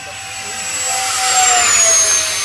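An E-flite Habu SS 70mm electric ducted-fan RC jet on a fresh battery whooshes past with a rising, high-pitched whine that swells and shifts pitch as it flies by, fairly loud, with voices nearby.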